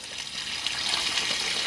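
Water drains steadily from the fresh water tank of a 2015 Chausson Flash 610 campervan onto a site grid, a continuous close hiss with no talk over it.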